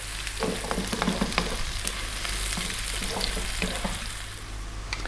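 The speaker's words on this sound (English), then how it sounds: "we really do need to cook the onions until they change color" Onions fry in a pan for a mutton curry, giving a steady, close sizzle with occasional stirring scrapes throughout and no talking.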